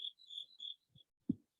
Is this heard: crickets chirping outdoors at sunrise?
yes